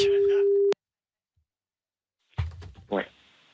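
A steady telephone line tone sounds for under a second, then silence, then a voice answers on a phone call.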